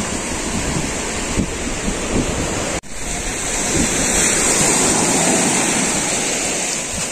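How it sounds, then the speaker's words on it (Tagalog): Heavy rain pours steadily at a Puerto Galera beach, a dense broadband roar with possible distant surf beneath, briefly dipping near the middle before swelling louder and heavier for the rest. "Nalakas na yung ambon kaya tingin ko kailangan ko nang bumalik."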